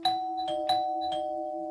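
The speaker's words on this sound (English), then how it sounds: "But late that night, Beck's doorbell rang twice." A doorbell chimes twice at night, two clear ding-dong rings in quick succession, close and distinct, with a sustained electronic tone lingering beneath.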